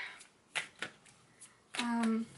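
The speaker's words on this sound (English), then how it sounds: "And I'm going to shuffle this deck." Someone shuffles a deck of cards at a tabletop in a few quick riffles, with a faint voice and a short tone near the end.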